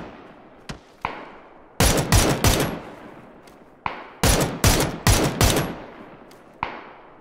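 Gunfire in the video game PUBG: several sharp single shots, then two loud rapid bursts of automatic fire, with a few more isolated shots between and after, and no talking.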